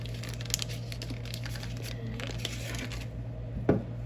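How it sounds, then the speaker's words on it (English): Paper wrapper being peeled off a block of unsalted butter, a faint crinkling with a few soft crackles over a steady low kitchen hum, then one sharper rustle near the end. "Remove the paper, butter paper."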